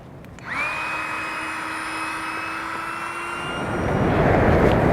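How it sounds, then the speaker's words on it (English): An electric pump inflates an Exped Synmat sleeping mat, a steady whirring drone that starts abruptly, runs loud and continuous for several seconds, then shifts into a broader rushing hiss as the mat fills. "I'm going to connect my pump and get it blown up now"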